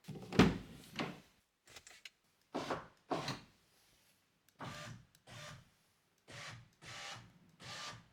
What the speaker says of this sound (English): we know at least the window regulator works